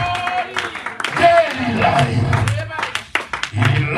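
Congregation at a Bible seminary clapping and cheering to acclaim the king, a crowd applauding under a loud preacher's voice that continues throughout.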